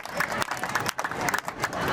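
An audience applauds loudly at an award ceremony honouring girls' education, a thick, continuous roar of many hands clapping with slight surges and a faint crowd murmur.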